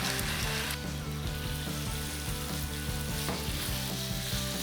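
Cubed potatoes and meat fry in oil in a frying pan, a dense steady sizzle broken by regular scraping stirs.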